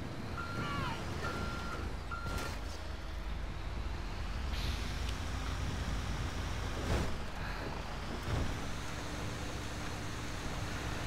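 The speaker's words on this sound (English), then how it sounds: "This truck I'm driving has seen better days." A battered truck drives in the video game GTA Online, its engine a steady drone throughout, with a few beeping tones early on and brief mechanical hisses and whines layered over it.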